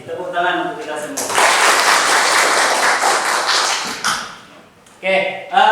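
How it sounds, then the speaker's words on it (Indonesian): A classroom group claps together in sustained applause lasting about three seconds, loud and dense, with a teacher's voice speaking before and after it. "Tepuk tangan untuk kita semua."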